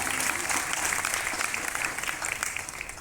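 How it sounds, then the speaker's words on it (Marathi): Steady, dense applause from the audience at a Marathi Geet Gajanan devotional music performance, a continuous wash of many hands clapping at full strength for about three seconds. "एकदा तुम्हा सर्वांसाठी जोरदार टाळ्या."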